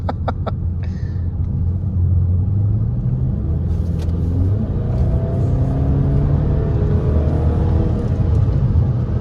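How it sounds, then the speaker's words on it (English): A BMW X5M pulls at full throttle in M mode, a deep, loud engine rumble building steadily from inside the cabin with rising whine and road roar, a few brief clicks at the start. "Dad's gonna floor it"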